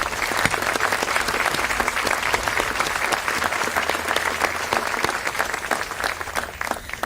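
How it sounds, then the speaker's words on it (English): Sustained applause for graduating seniors at the 2018 Sanford School commencement, a steady dense wash of clapping from a large audience lasting the whole stretch, with no talk over it. "Let's give all of these students a big round of applause, please."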